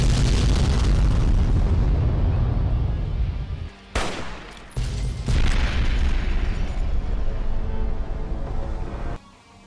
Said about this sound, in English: I missed the nuke barrage flying towards my face